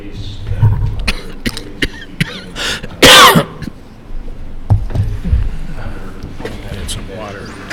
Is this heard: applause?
no